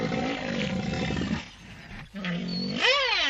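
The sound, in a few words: female rhinoceros growling defensively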